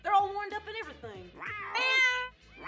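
Pet cats meowing in a series of drawn-out, rising and falling cries at close range, one after another, with short pauses and a higher, more urgent call near the end.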